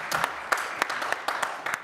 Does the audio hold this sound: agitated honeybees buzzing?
no